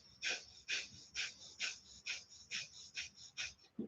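Nine rhythmic, forceful exhalations through the nose during a hatha yoga breathing round, each a short breathy burst about half a second apart, close and clear with no talking.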